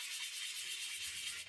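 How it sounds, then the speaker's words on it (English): A bike disc brake pad is sanded on 800 grit sandpaper in circular motions, giving a brief, close, soft scratchy rubbing hiss. "using a fairly rough, but not stupidly rough, grade of sandpaper"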